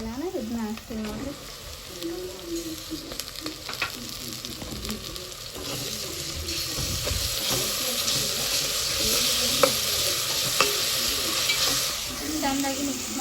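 Ginger garlic paste frying in a pan for chicken biryani, stirred with scraping strokes over a steady sizzle, moderately loud and close, with faint background noise throughout.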